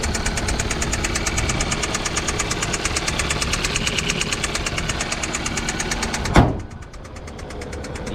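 A Hyundai car engine at an auction knocks with a rapid, regular metallic tapping over a rough idle, loud and close, then a sharp clunk cuts it off and the sound drops away.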